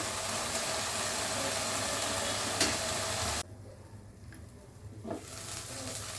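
Green gram and raw banana curry cooks in oil in a pan, giving a dense, even sizzle and hiss that drops abruptly to a quieter simmer partway through, as if a lid has been put on.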